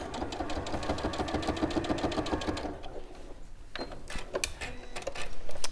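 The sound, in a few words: sewing machine stitching an applique on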